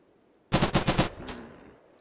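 Heavy machine gun firing in the RimWorld video game: a rapid burst of five loud, close shots followed by a brief ringing tail, with no voices.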